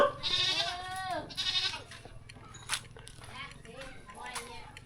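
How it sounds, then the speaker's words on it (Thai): Several goats bleat in quick wavering calls, fairly close, in a Lao village in Savannakhet province, with softer bleats and scattered movement sounds following. "ได้ยินแต่เสียงแพะ"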